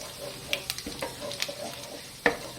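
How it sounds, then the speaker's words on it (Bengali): Bay leaf, slit chili and white cumin fry in hot oil with a close, crackling sizzle, punctuated by sharp pops and the scrape and tap of a stirring spoon. "এরপর আমি তেজপাতা আর লঙ্কা দিয়ে লঙ্কাটা একটু ফাটিয়ে দিচ্ছি মুখটা, যাতে তেলের জন্য ছিটকে না আসে"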